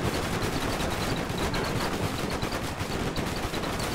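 Rapid, continuous gunfire from an airship battle in the strategy game Airships: Conquer the Skies, dense and loud throughout with dull cartoonish bursts and no voices.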